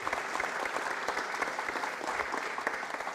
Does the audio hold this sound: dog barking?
no